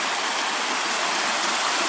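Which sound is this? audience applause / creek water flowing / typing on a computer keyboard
creek water flowing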